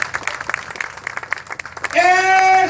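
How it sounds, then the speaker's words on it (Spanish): Audience applauding at a town festival proclamation ceremony in Sonsonate, rapid clapping spread through the crowd, shifting near the end into a brief held musical tone or cheer over the claps. "¡Aplausos, señores!"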